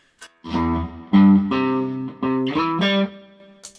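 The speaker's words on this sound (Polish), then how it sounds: "znaleźć przester o innym ziarnie, o innym trochę paśmie" Electric guitar played through a distortion effect, sounding several sustained, gritty chords and single notes one after another, loud and close with no talk.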